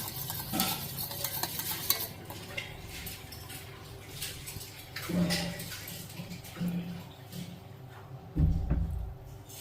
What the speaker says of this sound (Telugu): కొంచెం పెరుగు తీసుకున్నాను అంత విస్కర్ తోటి ఇలా మిక్స్ చేస్తున్నా